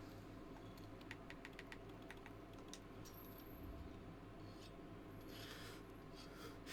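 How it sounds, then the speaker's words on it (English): Rapid, faint clicking and tapping of buttons on a game controller pressed hard during a Monster Hunter: World session, scattered bursts over a low steady background hum. "I might hammer the controller just a smidge harder than I should"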